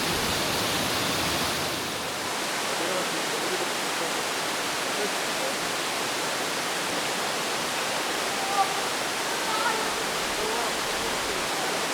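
Roaring water from a rain-swollen waterfall inside a cave on the Hantan River canyon, a steady, dense broadband rush that fills the whole stretch without a break.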